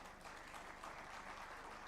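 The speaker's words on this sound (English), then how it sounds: "pass on some energy to all of them with a big round of applause" A conference audience gives the panelists of a regional connectivity session a round of applause, steady dense clapping filling the room at moderate level for the whole stretch, with no voices over it.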